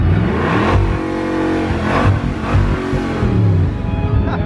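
A car engine revs hard in loud, roaring bursts that swell and dip over a few seconds, close and dominant with no talking over it.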